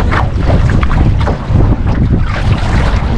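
A strong headwind buffets a canoe out on open water, a loud, steady roar of wind across the microphone with gusty swells and faint water movement beneath, no voices.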